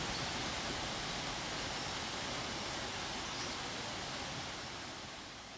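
Kaieteur Falls in Guyana, a waterfall carrying brownish, muddy water full of eroded soil and sediment, roars as a steady, dense broadband rush that stays loud throughout and eases off slightly at the end.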